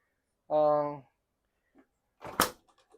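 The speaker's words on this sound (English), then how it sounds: "You want to make sure that you push the doors so you can hear the click." An RV refrigerator door in a 2023 Gulf Stream Vintage Cruiser pushed shut, giving a single sharp click near the end, after a short burst of speech.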